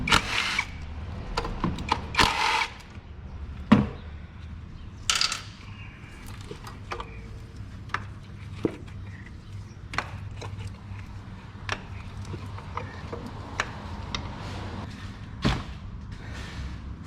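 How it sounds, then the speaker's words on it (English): Metal tool clicks and clinks from a 10mm socket backing out coil pack bolts on a Hyundai Santa Fe engine, several sharp isolated ticks and clanks spread irregularly over a quiet garage background. "Remove your coil pack bolts."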